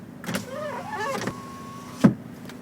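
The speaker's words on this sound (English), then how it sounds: "So electric windows, all working exactly as they should." Electric windows on a 2008 Honda Civic 2.2 EX diesel whir up and down in short motor runs, each ending in a soft thud as the glass seats, heard close inside the car with no talking.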